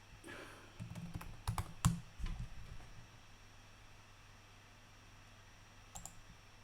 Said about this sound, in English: I'll type network policy.